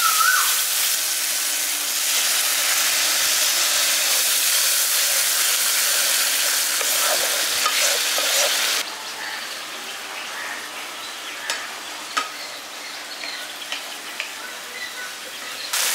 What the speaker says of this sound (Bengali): এবার মশলাটার মধ্যে জল দিয়ে আমি মশলাটাকে খুব ভালো করে কষিয়ে নিচ্ছি